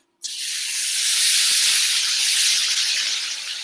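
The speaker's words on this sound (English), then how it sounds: "pour in some of that lemon juice because you're going to hear a little bit of a sizzle" A sudden loud hiss bursts out and holds steady for a few seconds, a close, bright sizzle of lemon juice hitting a hot pan of seared Brussels sprouts.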